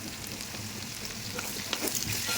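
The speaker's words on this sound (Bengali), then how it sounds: "এখন আলু ভাজা হয়ে যাচ্ছে আমার" Potatoes frying in a pan with salt and turmeric give off a steady, close sizzle with soft crackle, swelling slightly toward the end, no voices.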